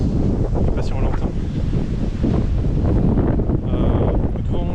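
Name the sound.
strong wind during a snowstorm in Quebec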